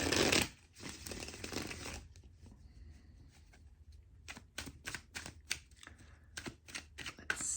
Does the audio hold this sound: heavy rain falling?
no